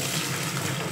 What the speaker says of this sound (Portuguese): Eu agora vou jogar a água quente.